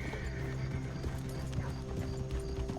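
Horse hooves of a fast rider approaching in a Western role-play video game, a steady clip-clop of hoofbeats with a neigh, busy and continuous under faint game background noise.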